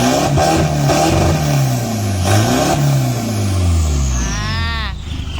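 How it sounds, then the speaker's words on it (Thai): A modified diesel pickup engine revs hard several times in a row, each rise and fall loud and close, ending with a final climbing rev that drops away. "ฟังเสียงเครื่องยนต์นิดหนึ่ง"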